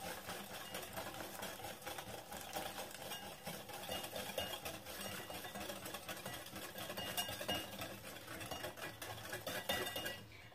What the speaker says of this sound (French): Et on fouette bien.